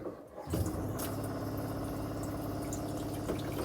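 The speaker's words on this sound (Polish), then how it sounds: "Pompa jest pompą z tak zwanym pressure controlem, czyli z kontrolerem ciśnienia." Yacht freshwater pump with a pressure controller, a steady humming, rushing run of pumped water starting abruptly and continuing evenly, fairly close and alone.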